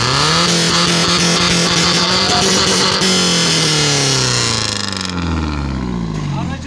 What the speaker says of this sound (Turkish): Egzozu ver egzozu.